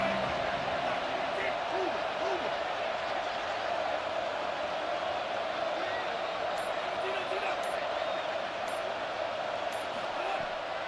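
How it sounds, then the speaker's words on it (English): Steady roar of a stadium crowd in the College Football 27 video game, a dense continuous wash of voices that holds at an even level from start to finish, with faint high clicks near the end. "This crowd ready to make its presence known."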